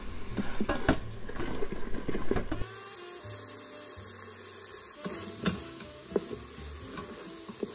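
Green onions and about six cloves of garlic sizzling in a hot pan, a soft frying hiss with light scraping and clinks from utensils, faint and close, with a musical tone beneath.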